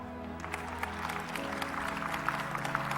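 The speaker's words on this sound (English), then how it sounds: "Clap." A church or lecture audience breaks into clapping that starts faint and builds into steady, moderately loud applause with scattered sharp claps.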